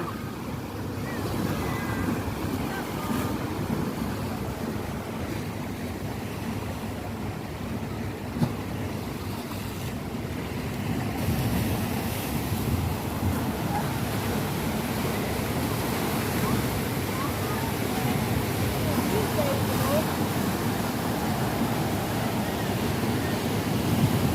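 Big waves crash onto a Hong Kong beach with a continuous, loud, roaring surf and wind rumble over the microphone, holding steady and swelling slightly in the second half.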